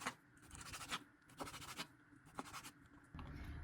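A knife slices through raw chicken on a cutting board for nuggets, making a few quiet, close scraping strokes in an irregular rhythm.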